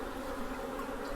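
Honey bees drone steadily around their hives, a continuous close buzzing hum with no pauses.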